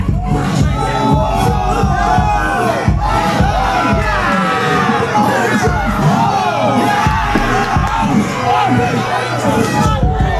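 A loud, packed crowd at a rap battle event in Los Angeles screams, whoops and cheers without a break, with many overlapping shouting voices forming a dense roar throughout.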